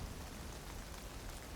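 Rain in the cozy cabin-building video game Log Away falls in a steady, soft wash of drops, an even continuous patter with no voices over it.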